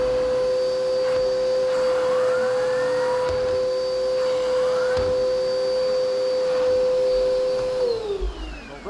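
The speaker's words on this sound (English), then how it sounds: "this is a loud vacuum." A loud Bissell CleanView Swivel Pet vacuum cleaner runs with a steady high-pitched whine and motor roar, the pitch dropping as it winds down at the end.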